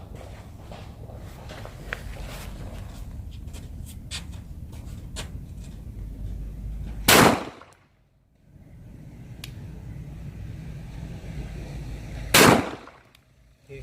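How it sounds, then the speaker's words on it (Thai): Two loud, sharp pistol shots from a Glock 34 firing 9mm rounds at a steel plate, spaced about five seconds apart, each cracking over a steady low outdoor rumble and followed by a brief ringing decay. "เดี๋ยวเรา ยิงด้วยก๊อก 34 ก่อนเนาะกระสุน9มม"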